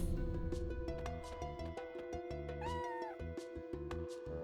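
A cat meows inside the video game Chrono Cross, with a brief high, gliding call that rises above steady game music and chimes and plays loud and close without any talking.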